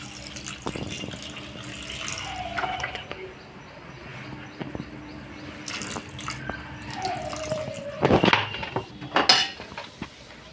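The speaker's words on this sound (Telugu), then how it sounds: "ఇప్పుడైతే నేను వాటర్ పోసుకుంటున్నాను" Water is poured into a pot of chicken curry in a home kitchen, a soft trickle and splash with clinks of a metal vessel and spoon, faint and intermittent, ending in a couple of louder clatters.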